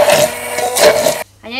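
An electric mixer whisks the sauce for stuffed aubergines, a loud steady whir with pulsing intensity that stops suddenly, followed by a brief spoken word.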